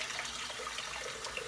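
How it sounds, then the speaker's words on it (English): Water runs from a tap into a sink in an office while the sink is filled before a shave, a soft, steady hiss and trickle that is faint and continuous with no speech. "I'm gonna put a little water in the sink."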